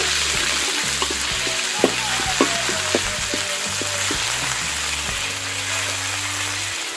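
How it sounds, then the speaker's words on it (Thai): Red curry paste and a little shrimp paste stir-fried in pork lard crackle and sizzle up close, with spoon scrapes and light clinks against the pan over a continuous frying hiss. "แล้วก็กระปิปลายช้อนนะครับ ผัดให้เข้ากัน"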